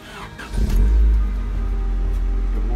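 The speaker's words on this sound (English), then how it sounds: "Just gonna see if the car is going to still start." A Honda EK car engine cranks briefly and catches after an engine bay cleaning, then settles into a loud, steady, deep idle rumble close by.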